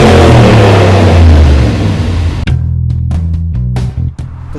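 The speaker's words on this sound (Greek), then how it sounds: "Αν γυρίσουμε στο Sport Mode, το οποίο παρακάπτουμε τους τελικούς σιγαστήρες, γίνεται πιο ελεύθερη η εξάτμιση" A car exhaust in Sport Mode with the rear mufflers bypassed roars loud and close, a deep droning rumble that drops into lower, uneven burbles and pops as the revs ease.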